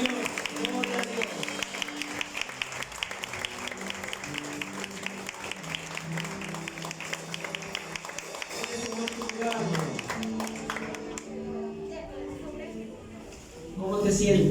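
Sustained applause from a church congregation during worship, many hands clapping in a continuous dense patter with music tones beneath, fading near the end before a louder swell.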